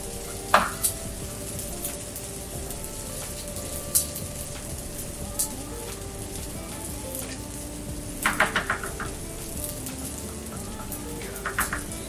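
Scrambled eggs made with yogurt sizzle steadily in a pan as they are gently stirred, with a few sharp scrapes and clicks of the utensil against the pan standing out over the constant frying hiss.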